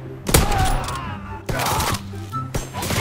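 Heavy, booming gunshots from Call of Duty WW2 fire in several close bursts, each with a dull thud and rumbling tail.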